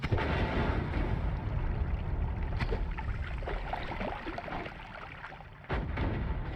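Bomb-firing wand in Noita sets off a dense, rumbling barrage of explosions, continuous and fairly loud, with a fresh sharp burst near the end.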